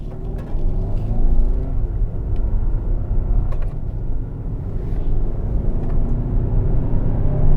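The 2.5-liter engine of a 2024 Hyundai Santa Fe SUV hums steadily while driving, with a low, continuous rumble, road and tire noise, and a slight swell as it pulls, heard from inside the cabin.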